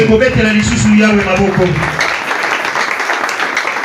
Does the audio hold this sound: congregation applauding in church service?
yes